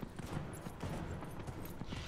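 Galloping horse hooves in Dragon Age: Inquisition during a horse-racing quest, a steady fast clatter of hoofbeats running continuously throughout.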